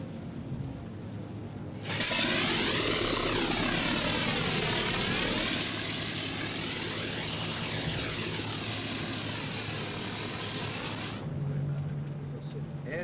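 A propeller aircraft engine in a 1956 war film coughs into life and roars steadily and loudly, its pitch swelling and dipping for several seconds before easing down, with voices briefly heard near the end.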